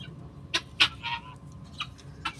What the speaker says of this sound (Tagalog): papakainin ko po ang aking pabo at saka manok